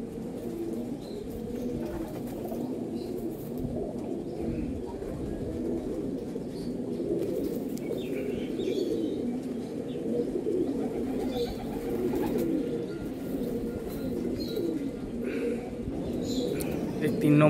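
Golden Eyes pigeons coo in a steady, continuous low murmur of overlapping calls, close and fairly loud, with a few faint chirps above throughout.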